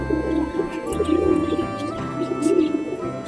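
A male Mumbai breed pigeon coos repeatedly up close, with low rolling bursts in a steady rhythm over faint background hum.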